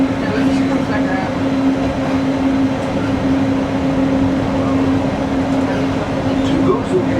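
The Disneyland Monorail carries riders with a loud, steady interior hum and drone, a sustained tonal whine running throughout, while people talk faintly in the cabin.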